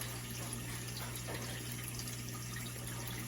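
Water fills a GE dishwasher through a new inlet valve, a steady hissing rush of flowing water with a constant low hum beneath, faint and unbroken.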